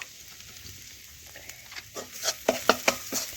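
Turmeric and chili powder frying in oil in a home kitchen pan, a soft sizzle with scattered stirring clicks and scrapes that grow louder and more frequent toward the end.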